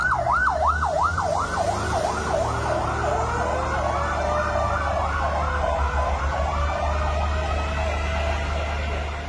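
Wailing fire truck sirens at a burning market in Ubud, Gianyar, one sweeping up and down rapidly at first, then slower overlapping wails over a steady low engine rumble, loud and continuous.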